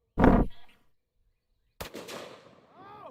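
A single sharp gunshot from a 300 grain jacketed hollow point round cracks loudly, followed by silence and then a second burst of sharp report with ringing tail.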